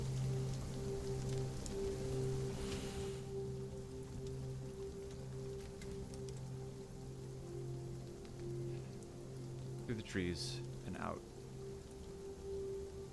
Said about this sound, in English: The rain is still coming down fairly hard as you head north